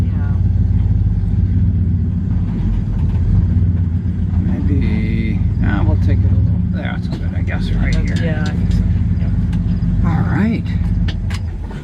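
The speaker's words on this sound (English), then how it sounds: "there's the truck in its natural habitat out here in the orchard" A truck driving through an orchard gives a loud, steady low engine rumble throughout, close to the microphone, with a person talking over it partway through.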